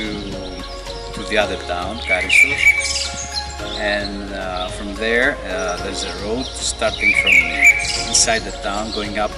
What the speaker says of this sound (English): You can hear the birds called